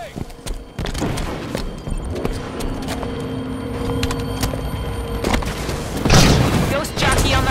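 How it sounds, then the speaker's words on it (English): A grenade bursts in a sci-fi shooter video game, a heavy boom among rattling gunfire and thuds, with game voice callouts sounding over the battle. "Enemy grenade incoming!"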